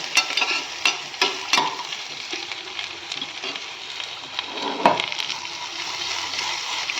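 Onions sauté in a pan with crushed garlic for a home-grown mixed spinach curry, making a continuous bright sizzle with regular spatula scrapes and knocks close by and no voices.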